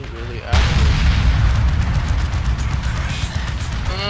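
Heavy artillery gunfire in the Dawn of War II: Retribution strategy game, opening with a sudden loud boom and rolling into a sustained, dense barrage of blasts and rumbling impacts.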